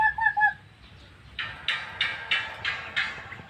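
A rapid series of five or six short, raspy quacks from a single nearby duck, following a few higher bird calls.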